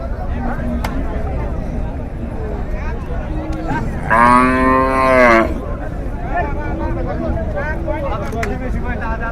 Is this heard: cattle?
yes